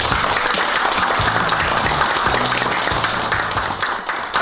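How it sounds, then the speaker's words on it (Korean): A group at a small police office ceremony for a woman motorcycle patrol officer claps steadily, a dense and even patter throughout, with a low hum faintly underneath. "박수."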